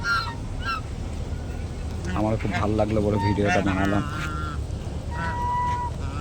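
Geese honk loudly in a noisy group, repeated nasal calls overlapping, while a person speaks over them.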